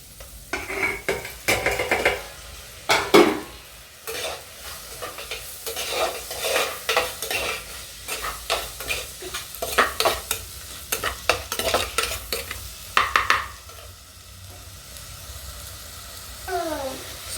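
Tomatoes and onions sauté in a pan for quail gravy, with repeated spoon scrapes and stirring knocks over a soft sizzle and occasional clinks of utensils.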